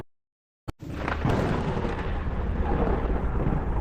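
After a moment of silence, a sharp crack gives way to a deep, rolling thunder rumble from a stormy rainy night that continues heavily and steadily.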